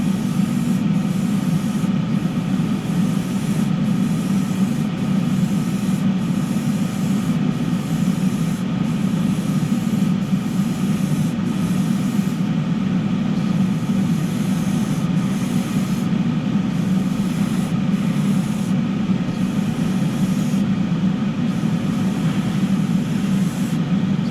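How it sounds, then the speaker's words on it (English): A fan runs steadily to exhaust lacquer fumes while painting, a loud, constant broadband whoosh with a low hum and a faint rhythmic flutter throughout. "I'm at least going to have this fan on to exhaust the fumes"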